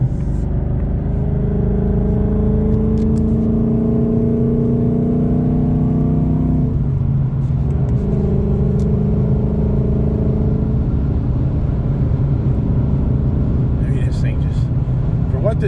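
A 2024 Ford Mustang GT with a new exhaust hums and drones steadily at high RPM from inside the cabin, with a brief dip partway through before the engine tone returns, and the low rumble stays continuous throughout.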